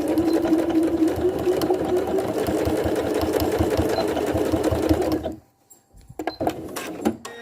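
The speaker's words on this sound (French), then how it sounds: "Et je vais venir faire une couture afin de bloquer." A sewing machine stitches a seam on a surgical gown, a steady, fast mechanical whir with a regular pulsing beat for about five seconds. Then it stops abruptly and is followed by a few faint clicks and handling noises.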